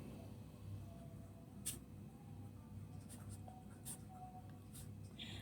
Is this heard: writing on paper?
yes